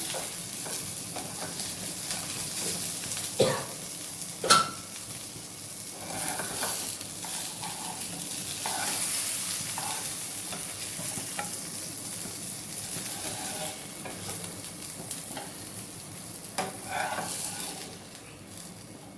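Fish sizzling as it fries in a pan, a steady crackling hiss with a few sharper pops, alone with no talk.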